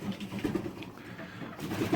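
Soft, low cooing of pigeons in an allotment loft, steady and fairly close, with a few rounded coo calls rising over a muffled background.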